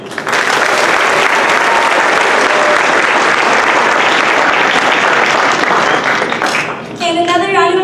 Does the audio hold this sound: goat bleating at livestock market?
no